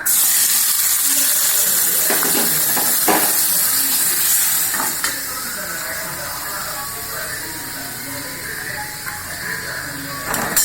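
Onion, tomato and green chilli frying in hot oil in a kadai, giving a steady, loud broadband sizzle with occasional clinks and scrapes from stirring throughout.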